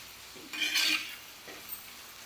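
Onions with a pinch of salt being sautéed in a pan, a spoon scraping and clinking against the metal in two short bursts with faint sizzling in between, close and fairly quiet.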